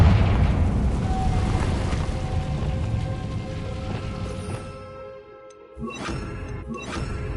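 Confringo spell blasts in Hogwarts Legacy, a rumbling explosion that rolls and slowly fades, then two sharp bursts in quick succession near the end.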